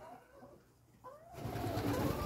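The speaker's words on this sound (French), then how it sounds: "Bon là c'est les pigeons." Pigeons kept with ducks and chickens on a small backyard farm, a few soft, faint coos before a louder burst of rustling and wing noise takes over.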